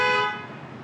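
A single loud car horn blast, a bright sustained honk that fades and cuts off after under a second.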